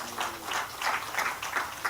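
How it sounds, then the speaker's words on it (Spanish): A church congregation applauds during a Sunday morning service, a soft, steady wash of many hands clapping together at moderate distance with gentle rhythmic swells. "Den un aplauso al Señor esta mañana."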